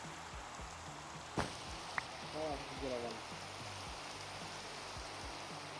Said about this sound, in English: Hopefully it stops raining.